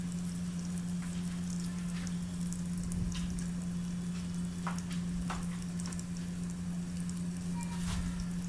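Brinjal (eggplant) slices frying in a covered pan give a steady low sizzle, with a strong constant hum and scattered faint crackles and soft clicks, no voices.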